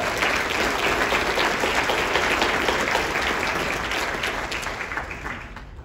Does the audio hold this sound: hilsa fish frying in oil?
no